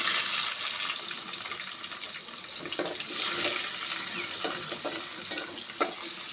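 Chopped onion and dried red chilies frying in hot oil with whole garam masala, cardamom and cinnamon, a loud continuous sizzle with soft stirring and scraping strokes throughout.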